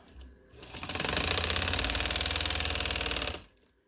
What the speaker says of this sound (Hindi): फोल्ड करके मैं ऊपर सिलाई लगा रही हूँ